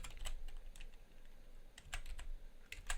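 Quiet, quick clicks of a laptop keyboard come in short irregular bursts as a game name is typed into a browser search box, close and soft with no talking.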